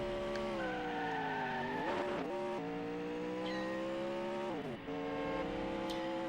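A race car engine drones steadily in the PS2 street racing game Pimp My Ride, its pitch rising and dropping sharply through gear changes, with brief tire-skid noise and no talking.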